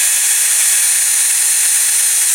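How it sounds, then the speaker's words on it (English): A power drill with a worn, blunt bit grinds steadily during restoration work on a die-cast Dinky Toys Maserati racing car model, a continuous high, thin whirring buzz with no voices. "That's not drilling very well either. My poor old drill bits are all knackered."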